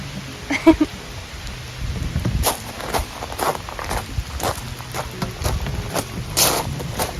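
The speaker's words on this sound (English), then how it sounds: "It's starting to thunder." Rain falls at the edge of a wooded garden during planting, with rolling thunder. Irregular sharp bursts and splashes come over a steady patter, fairly close and moderately loud, with no talking.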